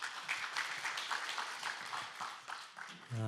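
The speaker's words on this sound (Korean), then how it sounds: "박수 부탁드립니다." Applause from an audience at a Korean results presentation event, steady dense clapping lasting the whole stretch at moderate level, ending as a voice begins.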